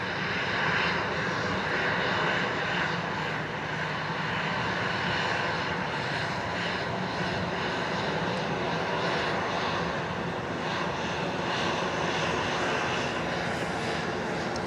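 Passenger airplane engine at Dallas Love Field, heard from the top floor of a parking garage: a loud, steady roar and whine that holds throughout with no talk over it.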